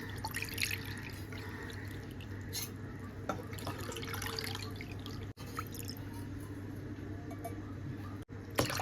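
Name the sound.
pouring water into a pot for pulao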